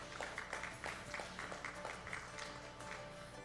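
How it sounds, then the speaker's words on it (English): An audience at the Lloydminster Stockade Round-Up livestock show claps steadily for steer and heifer exhibitors, a continuous patter of many hands at moderate loudness with no clear voices over it. "I think we should give these steer and heifer exhibitors a round of applause here"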